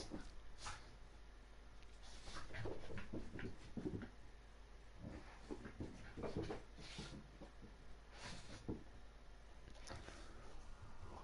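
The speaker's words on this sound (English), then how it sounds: "Dog's going absolutely mental, ripping something apart." A dog in a room whimpers and snorts in short bursts while tearing something apart, the sounds fairly faint and scattered over a steady low background hum.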